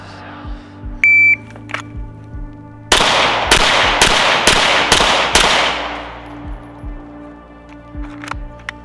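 Rapid gunfire during a shooting drill done while wearing a gas mask: five loud, sharp shots in quick succession, with a fainter beep and scattered clicks before the burst.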